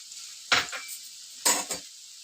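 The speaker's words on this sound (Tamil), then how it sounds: "கடுகு அது கூட நல்லா பொரிஞ்சு வரும்" Mustard seeds and onion splutter in hot oil: two sharp bursts of crackling stand out against a faint sizzle, each fading quickly, with no voices.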